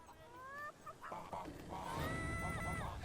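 Chickens cluck and squawk in Fable III, several short rising calls over a constant background hum, fairly close and clear, with no talk over them.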